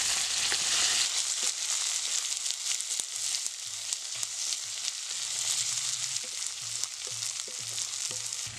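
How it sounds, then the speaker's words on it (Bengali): Chopped tomatoes and browned potatoes fry in hot oil in a pan for a fish curry, giving a steady, close sizzle throughout with faint stirring clicks and no talk. "টমেটোটাও আমার ভাজতে হবে এর সাথে।"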